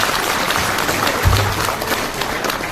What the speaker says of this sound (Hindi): आइए एक बार पुनः जोरदार तालियों के साथ मीटिंग की शुरुआत करते हैं।